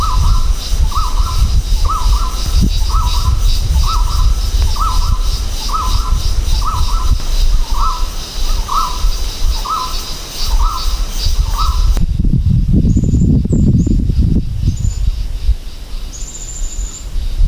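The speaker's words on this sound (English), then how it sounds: "Trying to locate this bird, but it's so loud I can't pinpoint where it's coming from" A loud bird calls in a forest in the Cameron Highlands, Malaysia, repeating a steady series of evenly spaced notes for about twelve seconds before stopping, with softer higher calls and a low rumble afterward.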